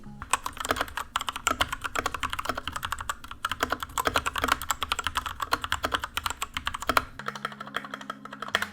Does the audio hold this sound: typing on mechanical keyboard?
yes